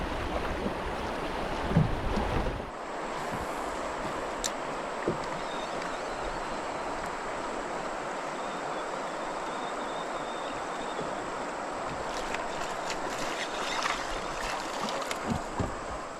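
Water on the Current River laps and rushes softly around a drifting kayak, a steady close wash with wind buffeting the microphone and a few light knocks, with no talking.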